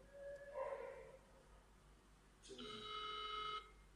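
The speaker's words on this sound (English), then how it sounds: "I am calling this phone." A mobile phone ringing from a call placed by a GT08 smart watch, two short bursts of electronic ring tone separated by a pause, fairly quiet with no talk.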